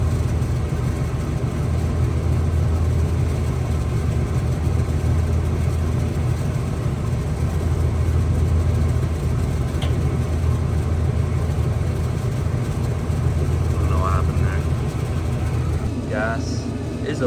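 A gas clothes dryer running on speed dry with a failing igniter gives a steady, low mechanical hum close by, unchanging for the whole stretch, with a faint voice briefly near the end.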